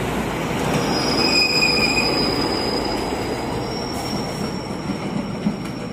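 A KUJR track measuring train arrives at Mojokerto station, rolling steadily with wheels squealing in thin high tones over a continuous rumble, no speech.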